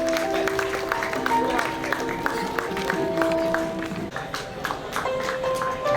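A crowd at a public school event claps steadily to welcome the mayor, the applause sustained and moderately loud over background music with sustained tones throughout.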